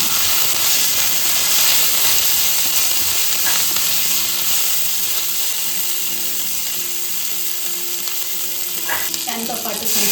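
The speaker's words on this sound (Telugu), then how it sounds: "మిరపకాయలు వేగినాక కొంచెం నువ్వులు వేయాలండి." Dried red chillies and sesame seeds fry in hot oil for dosakaya (yellow cucumber) chutney, giving a loud, steady, close sizzle that runs the whole time, with a few stirring scrapes near the end and no talking.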